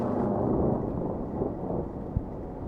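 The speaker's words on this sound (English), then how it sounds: "while you're listening these beautiful sounds of lightning strike" Thunder from lightning strikes rumbles low and heavy, a sustained deep roll with a faint crackle near the end, heard alone without voices.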